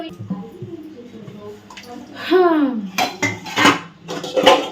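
Dishes, pots and pans being washed in a home kitchen, with clinking metal and scraping clatter in short uneven bursts, close and fairly loud, plus water sounds and a brief voice.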